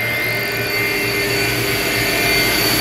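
A 2022 TRAK TMC7 vertical machining center spindle runs at 2,000 RPM, giving a loud, steady high-pitched mechanical whine with a constant hum, close and uninterrupted.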